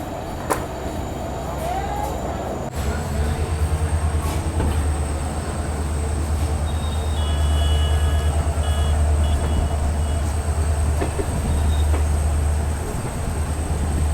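The Manas Rhino passenger train's locomotive at Kamakhya station, heard from a coach near the front: a loud, steady diesel rumble with a thin high whine, rising slightly midway and holding without letup.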